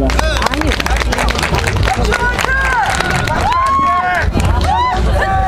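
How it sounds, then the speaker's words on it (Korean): Spectators at a taekkyeon competition clap and cheer loudly, a dense crowd roar with shouting voices and a commentator talking over it. "택견의 본 경기가 시작됐습니다 뜨거운 박수 부탁드리겠습니다."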